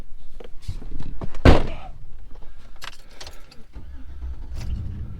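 Someone climbs back into a truck on a cold day at Springbrook State Park in Iowa: keys jangle, shuffling and rustling, then a solid door slam midway, followed by quieter interior rustling and a low rumble.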